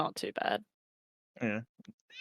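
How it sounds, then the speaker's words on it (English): A cat gives one short meow nearby during a quiet pause in a relaxed conversation among several people. "I hear a cat."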